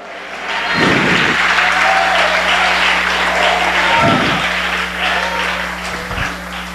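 A church congregation applauds steadily and loudly throughout, a dense wash of clapping with a low hum beneath and a few louder thumps.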